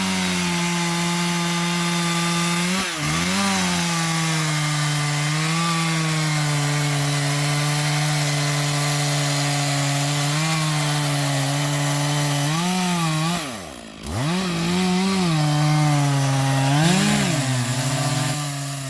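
A chainsaw makes a plunge cut into a storm-damaged tulip tree, the engine snarling loudly and steadily for a long stretch, with its pitch dipping and rising as the bar bites into the wood and revs briefly drop.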